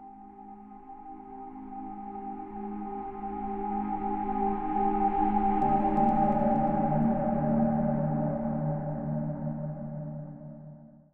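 A soft, sustained synthetic drone made in Reason swells slowly, hangs in a shimmering wash of panned, echoing delay tones, then fades away.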